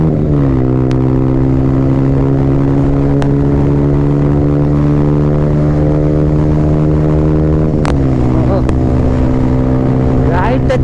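A Yamaha R15 v4 motorcycle drones steadily while being ridden, its engine pitch dropping at a couple of gear changes, loud and close under constant wind rush.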